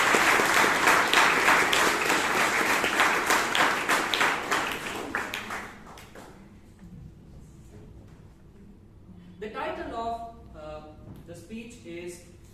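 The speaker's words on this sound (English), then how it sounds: "can we have a big round of applause for Toastmaster Nazneen?" Hearty audience applause greets Toastmaster Nazneen at a Bangalore Toastmasters meeting, dense clapping for about five seconds that fades to near silence before a voice begins speaking.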